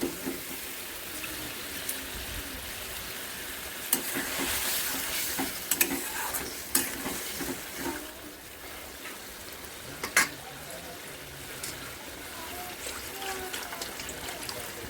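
Potato pieces stir-fried in a pan for a rohu fish curry, a steady broadband sizzle with scrapes and clinks of stirring throughout, moderately loud and close, with faint voice in the background.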